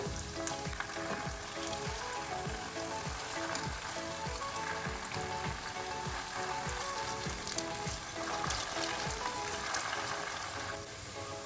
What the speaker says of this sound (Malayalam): ഗോൾഡൻ കളർ ആകുന്നവരെ ഫ്രൈ ചെയ്തെടുക്കാം.